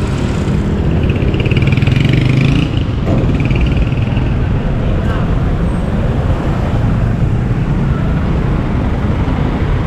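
Busy roadway traffic at a pet market in Bocaue, a steady loud wash of car and engine noise with motor rumble throughout, voices faintly mixed in.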